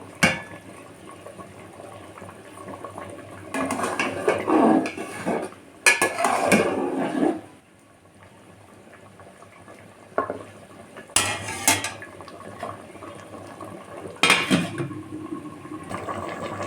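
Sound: small fish cooking with eggplant in a covered pan

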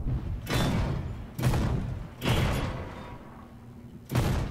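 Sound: shell ricochet off German heavy tank in video game

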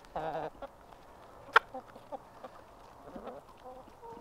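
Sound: chickens clucking

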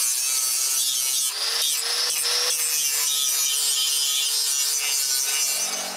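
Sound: grinder removing sharp corners from wood

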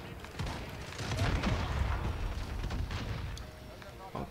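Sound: MK2 gunfire in video game Call of Duty Modern Warfare

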